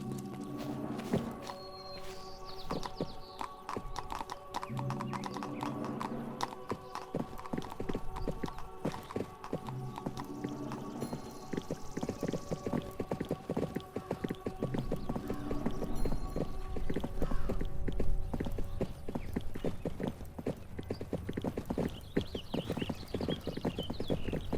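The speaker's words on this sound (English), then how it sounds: "Father, get on your horse." Horse hooves clip-clop at a steady walking pace in the medieval game 1428: Shadows over Silesia, continuous and fairly close over a busy bed of ambient sound and faint music.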